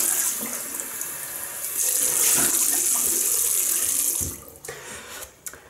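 Tap water runs steadily into a bathroom sink while rinsing off after a wet shave, a loud continuous splashing hiss that swells midway and then cuts off, leaving a few faint drips and clatters.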